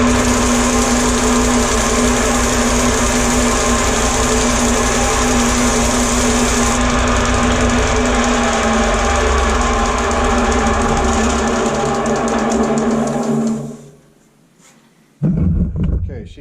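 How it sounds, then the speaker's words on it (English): A belt grinder roars loudly and steadily with a harsh, buzzing drone while a wire brush is held against its clogged sanding belt, then the machine winds down and cuts off near the end, followed by a brief thump. "So so to clean that, we're going to use our wire brush."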